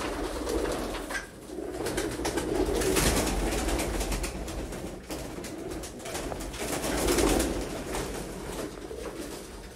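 Sialkoti pigeons coo in repeated low, throaty phrases that swell and fade across a busy loft, with many birds overlapping at close range and no talk.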